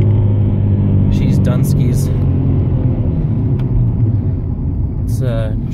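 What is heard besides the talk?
Subaru Legacy engine revving with a slipping clutch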